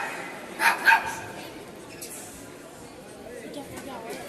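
A dog lets out two quick barks close together, fairly near and clear, followed by a quiet background hum.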